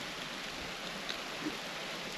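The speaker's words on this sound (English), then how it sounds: "But here we sit in the rain" Steady rain falls outdoors on a cold, windy morning during a whitetail bowhunt, a continuous even patter with no voices.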